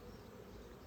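Honeybees buzz during a hive inspection as frames are levered apart with a metal tool, a faint, close, continuous drone lasting under a second.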